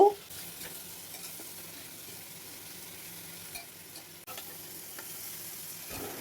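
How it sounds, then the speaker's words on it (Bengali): Pumpkin pieces fry in a pan with salt and turmeric for a pumpkin curry, giving a steady low sizzle throughout with a few soft scrapes of stirring, close and fairly quiet. "কুমড়োটাকে কিছুক্ষণ ভেজে নেব"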